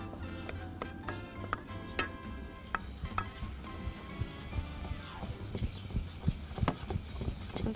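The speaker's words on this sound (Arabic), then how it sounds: "نشوحه حاجه بسيطه، مش عايزاه يتحرق" Chinese-style beef with garlic and soy sauce being stir-fried in a pan, with soft sizzling under frequent scraping and clacking of a utensil against the pan, irregular and close, at moderate volume.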